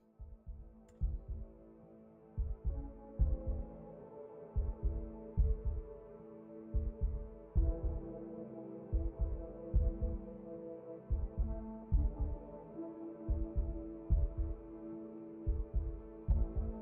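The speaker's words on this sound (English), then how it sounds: "that heartbeat is gonna drive me crazy, actually" A steady, pounding heartbeat from the horror video game Darkwood, deep thumping double beats repeating in an even rhythm throughout over a low droning ambient hum, with no talking.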